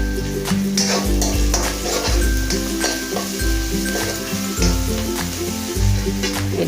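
Turmeric fries in hot oil with a steady close sizzle, while a utensil scrapes and clinks rhythmically against the pan in repeated stirring strokes.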